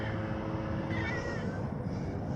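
A cat gives a short, soft meow indoors, faint against a steady background hum, with no talking.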